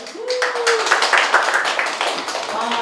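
Audience applause at a school admissions briefing, a dense wash of hand clapping from a crowd that holds steady for a few seconds with some voices mixed in.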